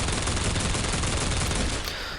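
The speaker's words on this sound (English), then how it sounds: "and you have the machine gun." Vehicle machine gun on a Lightning tank in the video game Planetside, a continuous loud burst of rapid automatic gunfire that fills the whole stretch and eases off slightly at the end.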